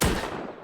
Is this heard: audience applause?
no